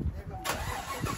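A car engine is cranked and started in Riyadh, Saudi Arabia, catching with a sudden broadband rise about a third of the way in and running on steadily, while people talk nearby.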